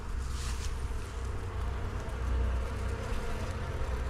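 Bees buzz steadily around a hive, a dense, continuous hum close to the listener, rising slightly in intensity midway and never letting up.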